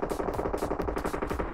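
Rapid automatic gunfire in PUBG Mobile, a dense string of sharp, evenly spaced shots rattling off in quick succession, steady and fairly close for the whole burst.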